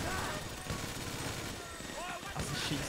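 Bursts of gunfire from a GTA 5 firefight crackle under excited talk, shots rattling in quick fusillades at moderate, slightly muffled level through the short span.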